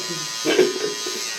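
Electric hair clipper buzzing steadily and close, with a brief rise in pitch and loudness partway through, a voice briefly audible underneath.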